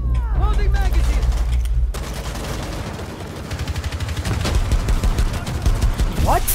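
Rapid automatic gunfire in Rainbow Six Siege rattles in dense, loud bursts, an indoor firefight with close, continuous shots. A brief lull comes before the sustained fire resumes.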